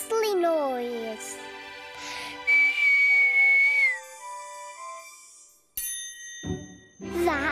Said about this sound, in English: If we whistle, we can make the stars jingle.